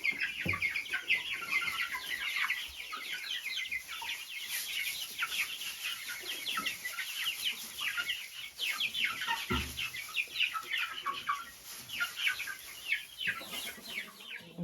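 Hens in a clean chicken coop cluck and croon continuously, a busy, close chorus of overlapping murmurs and calls with no talking.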